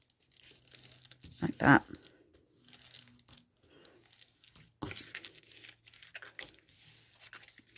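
Paper being folded into an envelope flip for a craft journal, with a few close crinkles and creases, one louder crunch early on, and a person talking quietly between them.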